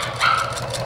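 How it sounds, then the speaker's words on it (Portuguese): A small dog gives one short bark, heard briefly and at moderate distance over a soft room background. "Tá latindo."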